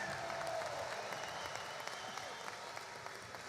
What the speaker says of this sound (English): Give Tony a round of applause.